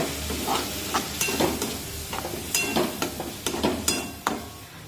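Masala for an aubergine curry sizzles steadily in hot oil, with repeated scraping and stirring knocks from a spatula against the pan.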